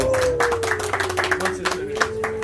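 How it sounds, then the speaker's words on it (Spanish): Clapping from guests at a children's birthday party painting contest, a burst of hand claps mixed with a sustained tone and voices close by. "¡Aplausos!"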